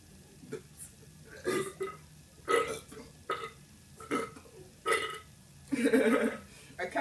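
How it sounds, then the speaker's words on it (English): A series of loud, close burps after gulping Pepsi, about eight separate belches spaced roughly a second apart, some drawn out and gurgling, the last one longest, with no talk. "Try burping Spanish now."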